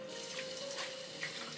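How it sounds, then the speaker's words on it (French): Tap water runs steadily into a salad bowl being rinsed in a kitchen sink after washing wheat flour dough for seitan, a continuous close splashing stream with no talk. "Je rince ensuite mon saladier,"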